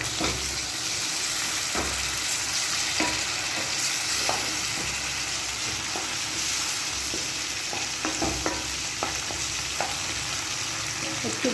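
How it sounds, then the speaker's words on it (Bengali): Chicken stirred in a pan with schezwan sauce and tomato sauce, a continuous sizzle under scraping strokes of a spoon at irregular intervals, close and fairly quiet. "একটু ভালো করে নাড়িয়ে নেব"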